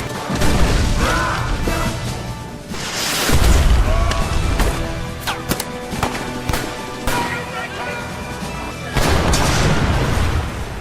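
Booming blasts from grenades in a war movie battle, several heavy explosions spaced through a loud mix of gunfire, crashing debris and music, with a narrating voice partly underneath.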